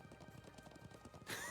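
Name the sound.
riding a horse in video game Trails of Cold Steel II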